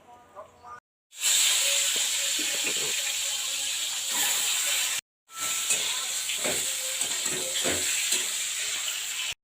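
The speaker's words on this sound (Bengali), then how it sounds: "এরপর আমি তেল দিয়ে দিলাম, ডিমগুলো ভেজে নেব" Eggs frying in hot oil in a home kitchen for an egg curry give off a loud, steady hiss and sizzle with crackling pops, interrupted twice by brief moments of silence.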